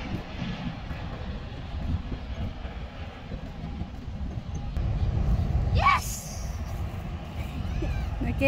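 An airplane at Laguindingan Airport, a steady engine roar held at a fairly even level with a brief rising swell near the middle, heard over people chatting nearby.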